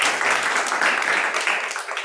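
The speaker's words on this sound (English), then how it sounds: "Charlie, clap it up." Audience clapping at a leadership seminar, a steady dense wash of many hands lasting about two seconds, fairly loud and close with no voices over it.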